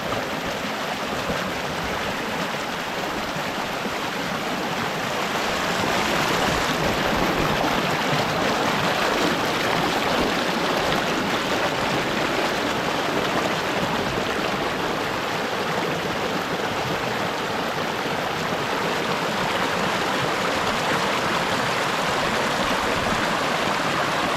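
A clean river flowing steadily, a constant broadband rush of moving water that holds an even, fairly loud level throughout with no talk over it.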